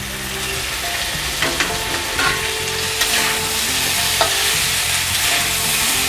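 Drumstick stalks frying in oil with already fried potatoes in a pan, a steady loud sizzle with occasional stirring clinks and scrapes of a spatula, no voices.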